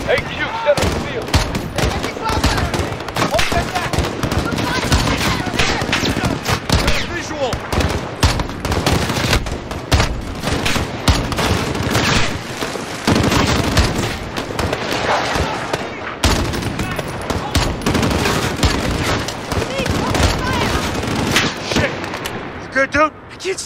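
Sustained machine gun and rifle fire rattle without pause in Call of Duty Modern Warfare, a dense, loud barrage of overlapping shots and bursts across a battlefield, with shouted voices mixed in.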